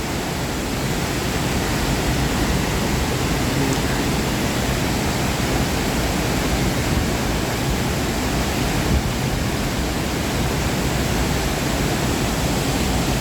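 Haew Suwat waterfall in a Thai national park roars as a steady, dense, broadband rush of falling water, loud and close, unbroken throughout with no voices.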